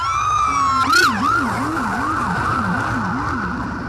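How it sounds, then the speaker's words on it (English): Fire truck and ambulance sirens wail, one sweeping up and down repeatedly, joined by a second rising and falling tone, loud and steady over a background of traffic in Las Vegas. "You can hear sirens coming."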